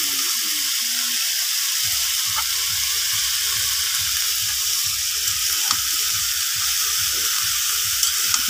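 Mixed vegetables tipped into a pan of hot spices and dried fish, a loud, continuous hiss of frying that runs evenly throughout, broken by low knocks and shuffling from the pan.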